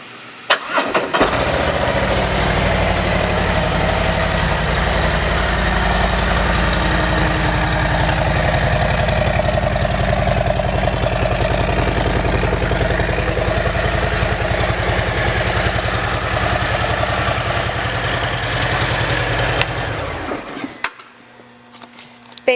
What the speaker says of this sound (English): And let's listen to the exhaust.